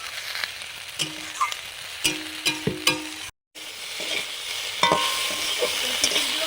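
Food fries in mustard oil in a kadai while a spatula stirs it, producing a continuous sizzle broken by repeated scraping and clinking strokes against the pan and a brief dropout midway.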